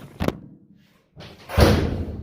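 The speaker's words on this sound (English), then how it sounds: "got the door shut" A 1970 Monte Carlo SS 454 door, newly shimmed at the hinges, is shut with a sharp thump, followed by a second, heavier slam a moment later, close and loud.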